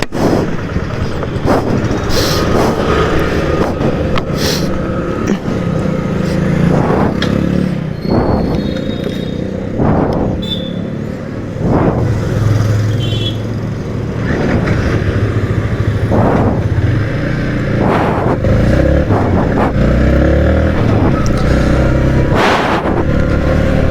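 A Yamaha MT-15 motorcycle engine runs loud and close, its steady rumble rising in repeated revs and bursts over a continuous mechanical drone.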